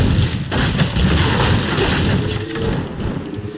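Battle in the strategy game Littlewargame, with fireballs and Gatling gunfire: a dense, loud wash of booming impacts and rapid shots layered continuously throughout, no speech.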